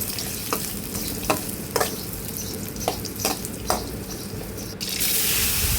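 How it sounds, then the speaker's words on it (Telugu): Green chillies sizzle steadily in hot oil in a home kitchen pan, a close continuous frying hiss with a few sharp spatula clicks against the pan and a louder hiss swelling at the end. "నూనె పోసి మిర్చి వేయించుకుంటున్నాను."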